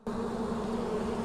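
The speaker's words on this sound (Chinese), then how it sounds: "洞内传来群蜂的嗡嗡之声" A swarm of wild ground bees buzzes inside a nest hole in a hillside whose entrance has been cleared of vegetation, giving a steady, close, continuous drone with no voices.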